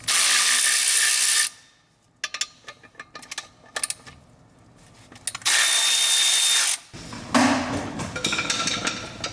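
An impact wrench loosens the pressure plate bolts on a GT86 clutch in a star pattern, firing in bursts of loud whirring with metallic clicks and rattles in between.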